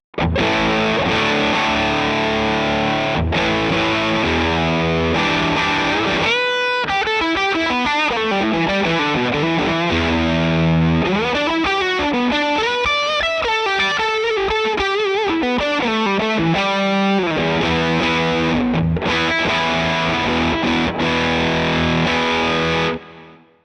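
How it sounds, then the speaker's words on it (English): Electric guitar through a Fjord Fuzz EMBLA pedal, gritty and nearly distorted, playing loud sustained chords and riffs without pause before stopping abruptly. "it does sort of fuzz more on the sort of verge of distortion"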